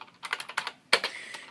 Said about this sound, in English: So you don't necessarily need to type Compaq in here, just type